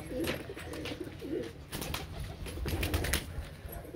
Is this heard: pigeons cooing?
yes